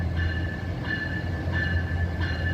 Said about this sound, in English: this is the eastbound Empire Builder coming to pick us up. And here comes our train